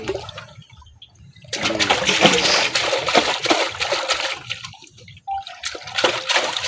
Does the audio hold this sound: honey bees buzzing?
no